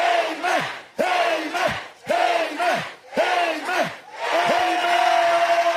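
A church congregation shouts loudly at a service in five or six big roaring bursts, each swelling and dropping with brief gaps between, the crowd close and dense.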